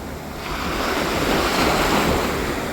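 Surf at South Beach in Miami washes in a loud, close, continuous rush, with wind noise on the microphone swelling slightly midway and no speech.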